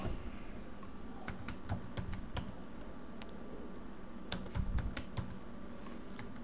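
Name and address details are typed on a computer keyboard in quick, irregular bursts of light key clicks, close up and fairly quiet, with no voices.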